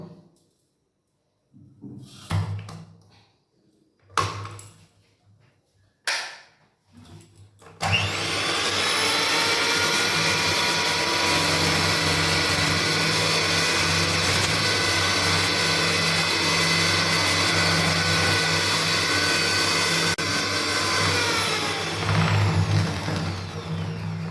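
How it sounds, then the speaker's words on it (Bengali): Three cracked eggs are beaten for cake batter with an electric blender. A few short handling knocks come first, then the motor starts and whirs loudly and steadily for the rest of the stretch without pause. "তো আমি এটা ব্লেন্ডার দিয়ে ভালো করে ফেটিয়ে নেব"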